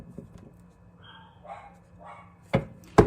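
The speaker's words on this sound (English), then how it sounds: "My dogs say yeah." Pet dogs at home let out a couple of sharp barks near the end, preceded by faint whimpers and yips in a quiet room.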